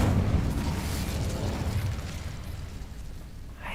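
An Incendio fire spell is cast in Hogwarts Legacy on PS5, a roaring burst of flame with a rumbling, explosive body that swells at once and slowly fades over a few seconds, with no voices.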